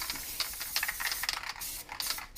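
Short bursts of spray paint hissing from an aerosol can, dark blue paint filling in a stencilled night landscape, irregular quick sprays with brief pauses, close and fairly quiet.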